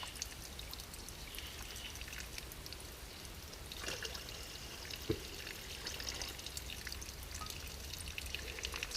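Water filters through a saturated bushcraft filter bag into a cooking pot outdoors in Australia, a faint continuous trickle and patter running steadily throughout with no voices.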